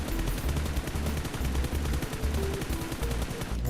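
Gunfire in the mobile shooter PUBG Mobile, a dense run of rapid automatic shots that stays loud and close the whole time, with game background noise behind it.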